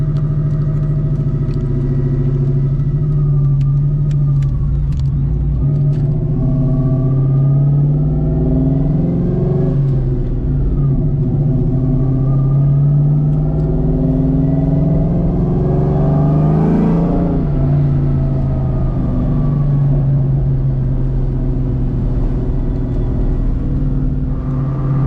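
A 2.1 non-intercooled engine fitted with a boost kit is heard from inside a car cruising in fourth gear around 2000 RPM under light, slow throttle. The steady low drone rises and swells gently, with no voices.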